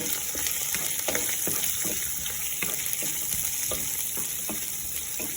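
Garlic and onion sautéing in a pan for chutney, a dense, continuous sizzle with soft stirring scrapes and crackles, close and steady without any voices.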